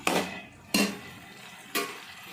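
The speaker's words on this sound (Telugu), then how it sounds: "ఇప్పుడు మనం వంకాయ ముక్కలు వేసుకుందాము" Three separate clattering metallic clunks ring out at uneven intervals, close and fairly loud, as eggplant pieces are dropped into a cooking pot.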